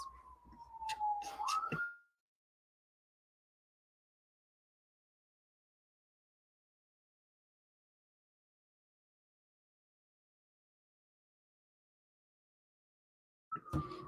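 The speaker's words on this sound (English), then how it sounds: "I was just letting that ambulance pass by" An ambulance siren wails briefly as it passes, faint and distant, then fades to silence before rising again at the very end.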